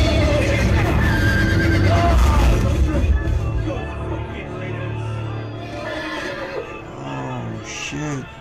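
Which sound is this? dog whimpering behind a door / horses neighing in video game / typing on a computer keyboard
horses neighing in video game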